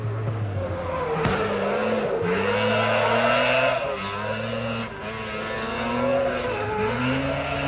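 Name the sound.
rally cars racing laps of a bitumen circuit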